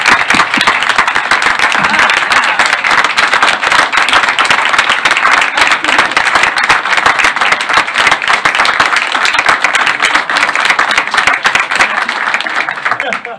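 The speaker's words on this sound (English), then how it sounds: "So I think she deserves a round of applause." A room at a sports authority meeting gives a departing women's sports committee leader a loud, dense round of applause that continues evenly throughout.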